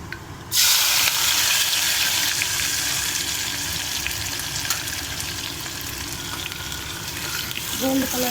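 Sliced onions and curry leaves hit hot oil with fenugreek seeds, a sudden loud burst of frying that settles into a steady, bright sizzle lasting throughout, with a light knock near the end.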